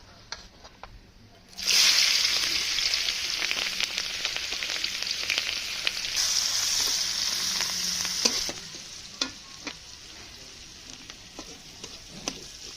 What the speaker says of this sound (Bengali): তেলের ভিতরে ঝাল আর পেঁয়াজ গুলো আগে ভাজা ভাজা করে নেব